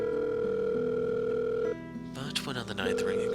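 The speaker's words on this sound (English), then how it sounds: "A ring. In the silence of the hallway, its sounds alone might be sharp enough to pierce through my ears." An outgoing telephone call rings out as a steady, sustained electronic tone, which breaks off partway through as a voice briefly begins.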